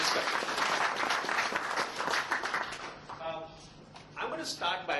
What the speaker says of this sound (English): please give a lot of applause to our panelists